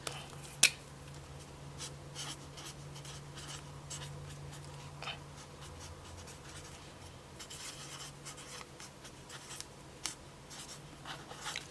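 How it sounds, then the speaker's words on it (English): A pen writes a label on a sticky note with soft scratchy strokes in short irregular bursts, quiet and close, with one sharper tap near the start and no talk. "I'm gonna take a sticky note and write a label on it."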